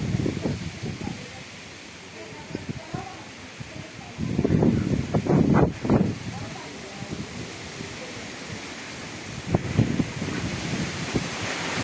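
Strong, gusty wind in a cyclonic storm buffets the microphone in rough surges, loudest around the middle, with a voice talking faintly now and then.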